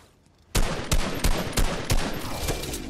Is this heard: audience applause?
no